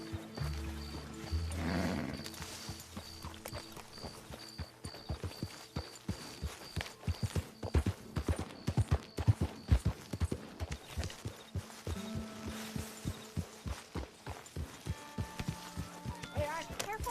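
Horse hooves clip-clop in Red Dead Redemption 2, a close, steady walking rhythm of sharp hoof strikes running throughout, with a brief low rumble early on and faint tonal game sounds beneath.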